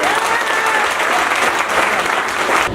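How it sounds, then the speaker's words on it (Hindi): An audience at a success celebration event claps loudly and continuously, a dense, steady wash of applause filling the room from start to finish. "इतनी जोरदार तालियां बजाएं इनके लिए"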